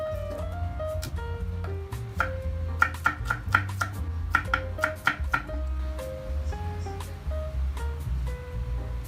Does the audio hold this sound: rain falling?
no